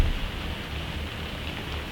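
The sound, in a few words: rain falling on a summerhouse roof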